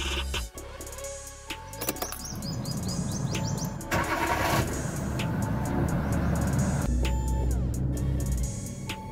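A 2002 Hyundai Santro second-generation hatchback engine cranks and starts, settling into a steady idle, with a faint bird chirp early on and some clicking mechanical sounds around it.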